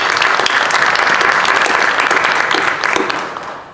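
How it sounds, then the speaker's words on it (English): Audience applause at a Stratford Public Schools monthly meeting, a dense, steady wash of many hands clapping at close range that holds evenly for several seconds and then tapers off at the end. "Again, round of applause for that group."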